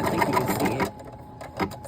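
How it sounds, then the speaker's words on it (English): Embroidery sewing machine stitching around a fabric pocket: a rapid, loud mechanical whir of needle strokes for most of a second, then it stops, leaving quieter handling clicks. "now it's gonna stitch where that pocket is"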